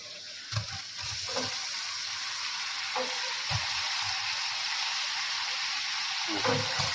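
Onions frying in a pan for Telangana-style mutton curry, with a steady broad sizzle throughout and a few soft knocks of stirring close by.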